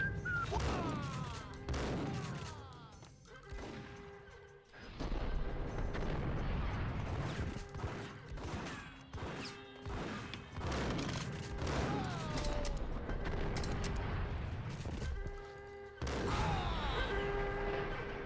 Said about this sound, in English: computer exploded